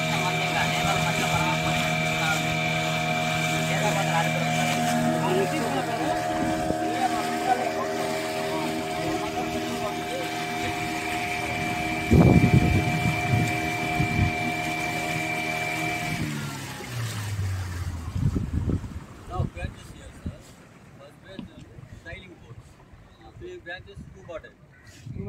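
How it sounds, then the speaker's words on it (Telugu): A boat ride through a Pondicherry mangrove forest, with a steady droning engine hum and its tonal whine carrying on under a voice before the engine note drops and fades, leaving quieter water and ambient noise. "పడవలో పోయి"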